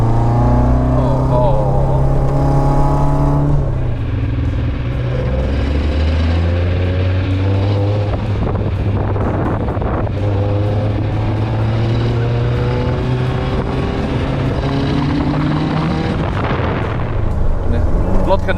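A loud, rumbling engine of a Toyota Corolla TE71 Levin with twin Weber carburetors and a performance exhaust, revving and idling up close, deep throaty exhaust dominating throughout with steady shifting drones and rattles.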